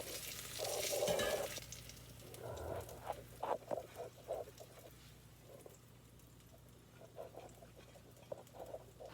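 Onion fritters in a skillet: a brief burst of sizzling, then soft intermittent spattering and scraping sounds as they are lifted out, quiet and close.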